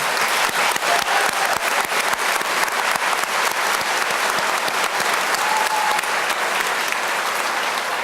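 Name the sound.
applause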